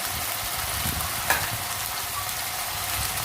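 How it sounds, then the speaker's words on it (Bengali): Ground cumin, coriander, turmeric and chilli sauté in a pan for a taro vegetable dish, a loud steady sizzle with a single stirring scrape partway through. "মশলাটা কষে নেব"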